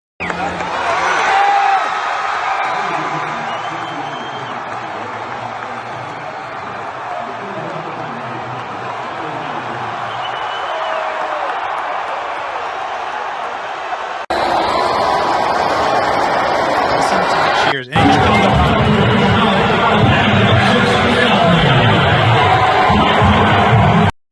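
A large rally crowd of tens of thousands, many waving flags, cheers and whoops in a loud, continuous roar that swells and surges, with a brief cut before it rises again even louder.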